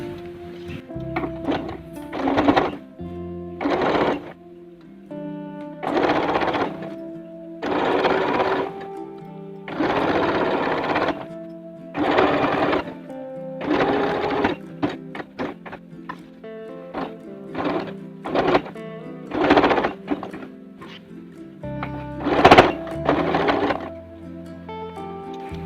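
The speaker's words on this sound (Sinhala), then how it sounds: "වටේ මේ දක්වා එක කෙලින් මේ විදියට මහගෙන යමු." A sewing machine stitching a washable cloth diaper runs in short, steady bursts of whirring separated by brief pauses, close and clear throughout.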